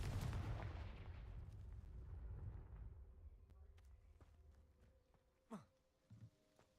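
A Confringo blasting spell in Hogwarts Legacy: a deep explosive boom with a long rumbling, decaying tail, followed by a few faint whooshing and clicking game sounds, all fairly quiet.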